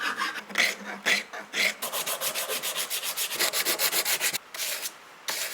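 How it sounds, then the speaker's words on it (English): A half round file works along a knife handle, giving a run of quick, even rasping strokes close up, faster and more regular toward the end with a couple of short pauses. "Favorite tool for shaping a handle at this stage after the bell sander is a half round file."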